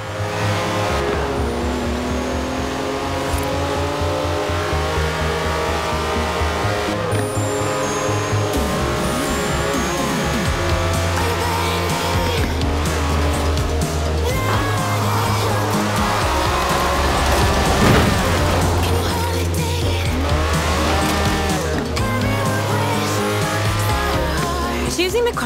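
Lamborghini Countach racing in Forza Horizon 4, its engine droning loud and steady at high revs for the whole run, with brief tire squeal and passing traffic mixed in.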